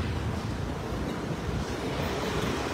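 Strong gusty wind sweeps through a street in Thane, a steady loud roaring rush buffeting the microphone with no voices.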